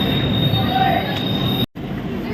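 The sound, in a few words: Duronto Express train pulling into Renigunta station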